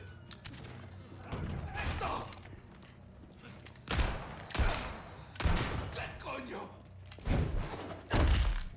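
Gunfire from a handgun-type weapon in Resident Evil 4 Remake, several sharp, spaced shots ringing out one after another amid game action, with a person talking in between.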